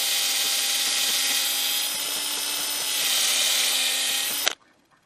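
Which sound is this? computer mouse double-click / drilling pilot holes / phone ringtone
drilling pilot holes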